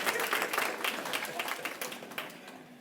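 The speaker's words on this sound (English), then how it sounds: "Applause." Wedding guests applaud after a limerick toast, a dense steady patter of many hands clapping at moderate distance through the whole stretch, with no voices standing out.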